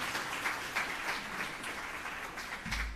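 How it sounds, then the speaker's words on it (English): Faint, fairly distant clapping from a small audience at a UN Day flag-raising ceremony in Jamaica, a short, even patter of hands. "Please give her another round of applause."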